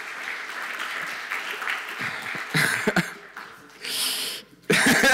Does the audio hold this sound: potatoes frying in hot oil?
no